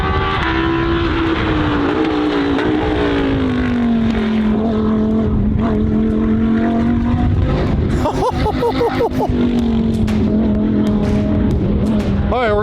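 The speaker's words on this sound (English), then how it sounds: "Man, the Lambo sounds so mean." Lamborghini engine roaring loudly on a racetrack, a sustained high-revving drone that holds steady then shifts pitch as the car passes close by, with a brief voice in the background.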